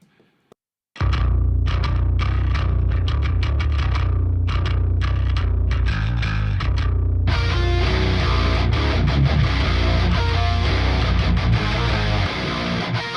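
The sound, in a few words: distorted metal bass guitar, heard in the mix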